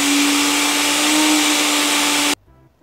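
A kitchen blender runs loud and steady while pulsing an onion cream mixture, then cuts off abruptly, leaving faint low residual sound.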